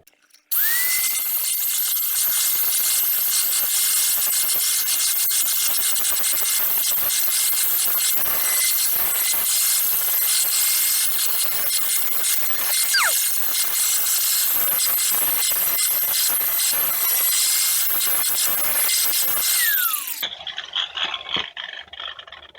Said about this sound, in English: I'm also going to need to grind a clean spot, probably right here, for the ground clamp